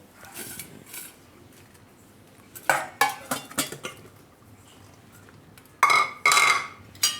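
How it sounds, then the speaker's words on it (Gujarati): A spoon clinks and scrapes against a bowl while spices are mixed into paneer, in short irregular bursts of metallic taps with quiet pauses between them, close by and without speech. "તો પહેલાં આપણે આ પનીરમાં મસાલો મિક્સ કરશું."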